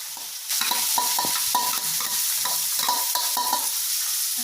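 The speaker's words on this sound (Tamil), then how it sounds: "இப்போ வந்து இதை நல்லா வதக்க போறீங்க" Onions and curry leaves sauté in a pan, a loud continuous sizzle broken by rhythmic scraping strokes of a spoon roughly twice a second, close up with no talking.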